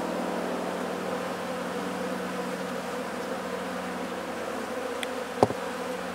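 Honeybees buzzing steadily during an inspection of a weak, nearly dead hive, a dense continuous drone close by with a brief knock near the end.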